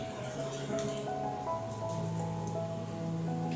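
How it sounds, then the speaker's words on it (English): Ginger slices fry lightly in about three tablespoons of oil in a pan over medium heat, a faint steady crackling sizzle with fine spattering, continuous and unbroken throughout. "Lightly fry the ginger until it's golden brown on both sides."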